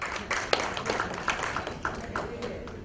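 An audience at a banking conference claps in scattered, uneven strikes, with sharp individual claps repeating every fraction of a second, moderately faint in a large hall.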